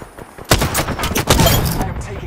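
Rapid bursts of gunfire in Apex Legends, a Season 10 battle royale match, crack in close, dense volleys after a short quiet start, sustained and loud throughout.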